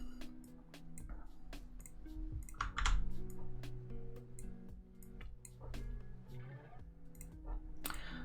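Quick taps of typing on a computer keyboard, faint and close, keys clicking in an irregular rhythm over a low background hum.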